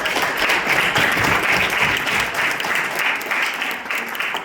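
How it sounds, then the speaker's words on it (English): Audience at a varsity team banquet giving a sustained round of applause, dense and fairly loud clapping from many people that holds steady before starting to taper. "So can we give the parents a round of applause?"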